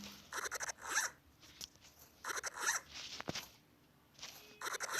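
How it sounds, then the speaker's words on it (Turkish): Zipper on an anti-stress toy being pulled closed, several quick close rasping zips in short bursts with pauses between them. "Fermuar çekelim."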